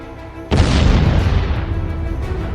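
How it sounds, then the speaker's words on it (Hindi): Blast of an Arash drone's 150 kg warhead, a sudden deep boom that bursts in and then rolls away in a long, loud rumbling decay. "150 किलो वॉरहेड के साथ इसका धमाका किसी भी टारगेट को तबाह कर सकता है।"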